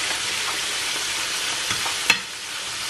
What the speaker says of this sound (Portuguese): Começamos por fritar. Eu vou fritar 4 de cada vez.